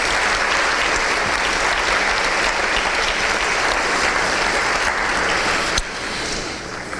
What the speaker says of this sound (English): Let's give them a round of applause even though they're not here.